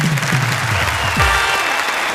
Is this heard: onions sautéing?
no